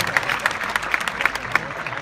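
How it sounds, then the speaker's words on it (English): Scattered applause from runners gathered at a Great Wall Marathon pre-race briefing in Tianjin, China, with a few distinct sharper claps standing out over a faint, moderate crowd. "Big round of applause"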